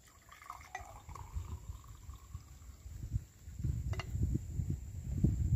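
Tea is poured into a glass, a soft liquid trickle that grows fuller and louder as the glass fills, close up with no talk over it.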